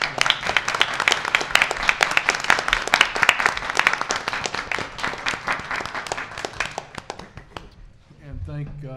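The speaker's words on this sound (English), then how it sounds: "give them a round of applause" An audience at a community college board of trustees meeting applauds culinary arts students who prepared breakfast, giving steady, dense clapping that fades out near the end.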